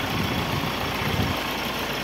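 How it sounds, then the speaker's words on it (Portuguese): A Mahindra Scorpio SZ with a 2.6-litre 8-valve engine idles quietly and evenly, a low steady hum with a soft rhythmic throb and no talk. "o motor é bem silenciosozinho"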